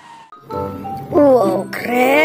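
A toy police car's siren plays a warbling electronic tone in rising and falling sweeps, loud and close, starting after a brief quiet moment and growing more intense toward the end.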